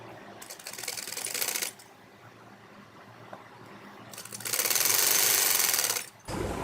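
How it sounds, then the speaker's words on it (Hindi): A sewing machine stitches a folded salwar border hem in two quick bursts, a short run near the start and a longer, louder steady whir later, with quiet pauses between. "मोड़कर इसको सिलाई करेंगे"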